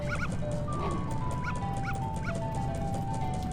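Yipping, whimpery barks from a dog in the video game Majora's Mask ring out repeatedly over constant game music and ambience, short paired yelps spaced through the stretch.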